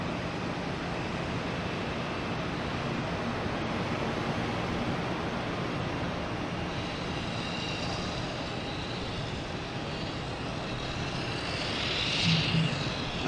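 A jet airliner rolls out with its older-style thrust reversers at Boston Logan Airport, a steady broad distant roar that swells slightly toward the end, with no talk.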